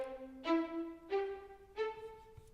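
Staccatissimo patch from Cinematic Studio Strings in Notion: three evenly spaced, short bowed string notes climbing in pitch, each a little longer than a clipped pluck, clear and close with no voices.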